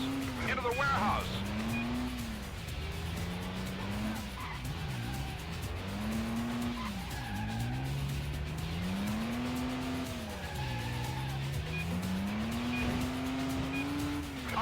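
Car in the Stuntman driving video game, the engine rising and falling through gear shifts as it speeds toward a jump, with tire squeals and skids and a voice talking over it throughout.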